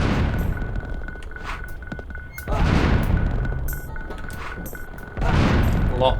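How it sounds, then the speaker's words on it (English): Mines exploding in the video game Oddworld: Abe's Exoddus, a few loud broadband blasts a couple of seconds apart over a steady game soundscape with a constant tonal hum. "Lots of mines to explode around this bit."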